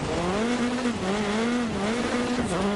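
A rally car in DiRT Rally 2 brakes hard, its engine note dropping and wavering loudly with tyre scrub, a continuous close-up roar with no voice over it.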